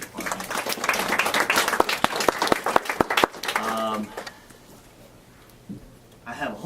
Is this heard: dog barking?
no